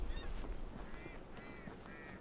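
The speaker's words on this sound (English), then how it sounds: "I can't shoot the ducks or the pheasants." Ducks in the hunting game Hunting Simulator 2, three or four nasal quacks in quick succession over a faint outdoor background, fairly near.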